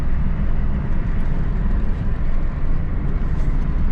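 A rebuilt car bought at a Copart auction drives straight down the road, giving a constant loud low rumble of engine and road noise heard from inside the cabin, with no talking.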